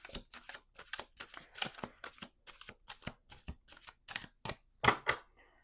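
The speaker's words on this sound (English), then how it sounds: "Last shuffle." A deck of cards riffled and bridged repeatedly, about a dozen crisp bursts in steady rhythm, close and clear with short pauses between.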